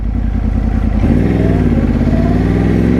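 A 2013 Yamaha R1 with a big bang engine revs up close and loud, a steady throbbing idle climbing into a rising, harmonically rich engine note that holds to the end.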